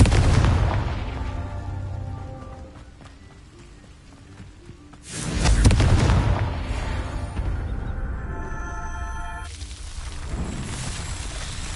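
Blasting-spell explosions in the Hogwarts Legacy game: a deep, loud boom opens, fades into a quieter rumbling tail, then a second heavy blast lands midway and rolls on with a sustained roar.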